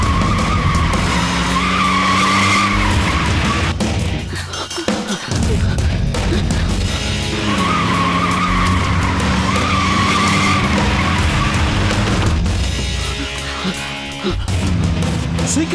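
A car pulls away in a film scene with tires skidding and squealing, loud and sustained over about sixteen seconds, with engine roar and a brief dip partway through.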